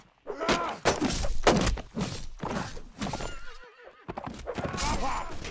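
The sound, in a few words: horse neighing and hooves in the video game Balestra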